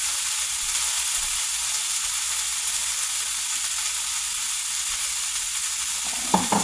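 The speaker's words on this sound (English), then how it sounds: "So while this is sizzling" Ground beef casserole mixture sizzling in a pan, a steady, loud hiss of frying that runs throughout, with a faint stir or clank near the end.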